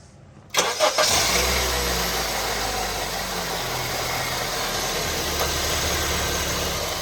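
A 2012 Honda Civic engine cranks and catches after a brief pause, then settles into a steady, smooth, close idle that rumbles on without a break.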